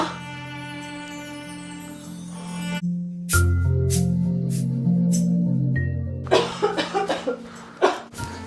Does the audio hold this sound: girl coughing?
yes